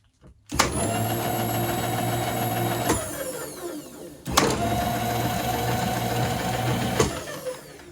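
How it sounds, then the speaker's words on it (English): A DIY milling machine built from a Harbor Freight Central Machinery 3-in-1 mill, driven by a treadmill motor, whirs up to a steady high-pitched electric whine, winds down, then spins up and runs again, loud and close. "This is getting powered with a treadmill motor, just like the lathe."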